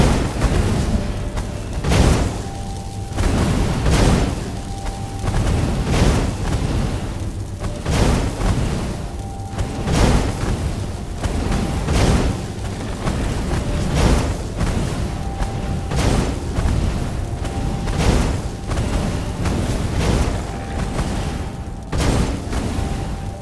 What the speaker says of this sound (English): Who doesn't love being shot at by cannons?